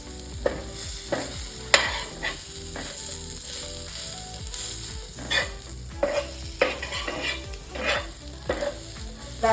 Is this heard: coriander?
yes